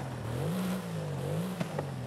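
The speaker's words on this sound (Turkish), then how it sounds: "Arabanın da sesinden anlayacağınız üzere arkadaşlar, araba V8 motorlu." A modified Mercedes-AMG GT-R with a twin-turbo V8 in Forza Horizon 5 idles with a low, wavering, slightly uneven burble, then gives two quick sharp blips of the throttle near the end.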